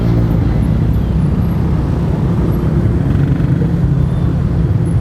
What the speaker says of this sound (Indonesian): Macet banget sorenya.